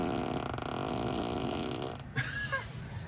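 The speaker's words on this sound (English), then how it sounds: "Fart on demand." Fart-on-demand sound effect from a Tesla Model 3's cabin speakers: a long, buzzy, drawn-out flatulent rasp, then a short squeaky tail after a pause.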